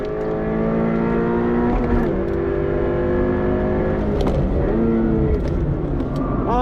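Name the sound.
Subaru BRZ engine revving toward red line on track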